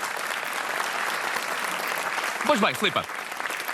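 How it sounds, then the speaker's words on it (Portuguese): Studio audience applauding on a Portuguese TV game show, a dense wash of clapping that runs the whole time while a host's voice speaks briefly over it near the end. "Um aplauso para Lady Gaga."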